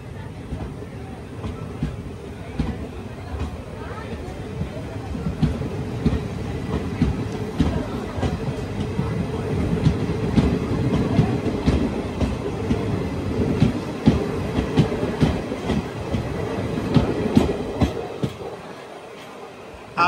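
An express train rolls past on the rails during a rail journey toward Rameshwaram, a steady rumble with rhythmic clatter of wheels over joints lasting throughout and fading near the end.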